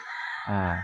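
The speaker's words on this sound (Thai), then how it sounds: "ได้ยินเสียงนกเสียงนกเสียงไก่ขันเนี่ยอย่างที่" A rooster crows once in the open countryside near a Thai temple, a loud, near call that swells after a brief quiet start.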